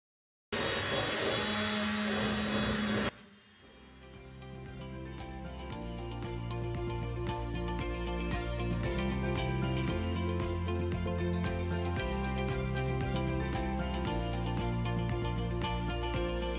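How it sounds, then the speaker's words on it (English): A rotary conical grinding wheel buffs a custom Air Force 1 shoe, starting with a loud harsh burst, dipping briefly, then settling into a steady whirring motor drone with scattered scraping contact noise. "Repeat the operation again with the conical grinding wheel"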